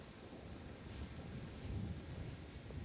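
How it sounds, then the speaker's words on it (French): Wind gusts across an outdoor golf course in Pas-de-Calais during a professional tournament, heard as a soft, steady rumbling buffet against the microphone that swells slightly. "On voit que le vent commence à se lever"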